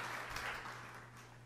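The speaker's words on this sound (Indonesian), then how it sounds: "ayo beri tepuk tangan yang meriah untuk kemuliaan Tuhan yang setia" Congregation applause during a church sermon, a brief wash of clapping that fades slightly, fairly faint over a low steady hum.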